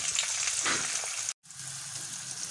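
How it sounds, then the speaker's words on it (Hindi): Finely chopped onion sizzles in oil left over from frying fish, a close, steady hiss with a brief stirring scrape, cut by a moment of silence before the sizzle resumes. "जिसमें हमने फ़िश को फ्राई किया था उसी में हमने प्याज को ब्राउन कर लेना है।"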